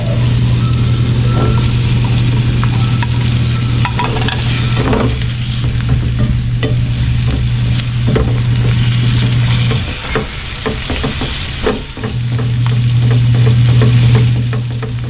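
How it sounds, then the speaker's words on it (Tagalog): Onion and garlic frying in oil in a pan for sopas, a loud, steady close sizzle with crackles and stirring scrapes, over a low hum that drops out briefly then returns. "hintayin natin mag golden brown yung bawang sibuyas"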